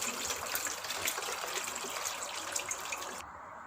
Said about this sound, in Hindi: इसके ऊपर पानी डाल देंगे ताकि लीमू का जो फ्लेवर है वो अच्छी तरह से निकल जाए।